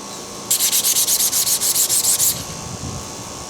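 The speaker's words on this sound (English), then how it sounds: "I'll rinse it, sand it." A restoration part for a Yates American J180 is sanded by hand to strip black sodium carbonate, giving a quick run of about a dozen even, rhythmic rasping strokes, close and fairly loud, then stopping.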